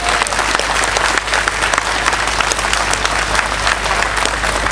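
Sustained applause from a large audience, dense continuous clapping filling the space at a steady loud level throughout, with no talk standing out.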